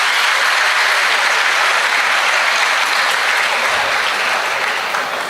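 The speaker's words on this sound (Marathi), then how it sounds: "सगळ्यांनी एकदा जोरदार टाळ्या वाजवा त्यांच्यासाठी." An audience applauds loudly at a birthday greeting during a Marathi poetry gathering, a dense, sustained wash of clapping that stays even for several seconds.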